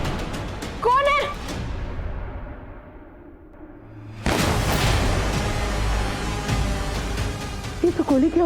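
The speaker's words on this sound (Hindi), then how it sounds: "ये तो गोली की आवाज है।" A gunshot gives a sharp boom followed by a long noisy roar, loud and close, with brief voices around it.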